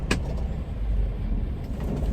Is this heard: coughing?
no